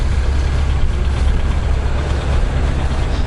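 A Farmall 856 tractor with a DT407 diesel engine runs steadily at an outdoor farm auction. Its deep engine rumble is loud and continuous, with no speech.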